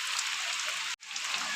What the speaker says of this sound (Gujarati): વરસાદ ચાલુ છે એક ધારો બપોરનો